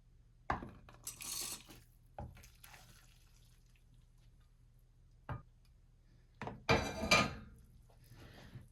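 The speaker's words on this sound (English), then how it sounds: "I'm going to transfer all of this to this plastic bowl" Homemade ramen goes from a pot into a plastic bowl: a few sharp clinks and taps, then a louder clatter with liquid splashes near the end, scattered across long quiet gaps.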